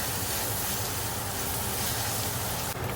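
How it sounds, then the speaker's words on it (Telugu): Onions and green chillies frying in a pan, a dense, loud, continuous hiss and sizzle held close throughout with no talking. "ఉల్లిపాయలు, పచ్చిమిరపకాయలు బ్రౌన్ కలర్ వచ్చే వరకు వేపిస్తున్నాను"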